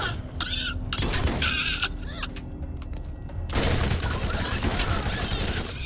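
Gunfire from a Borderlands shooter game, with bursts of rapid shots and sharp electronic whines over a dense, loud battle soundscape.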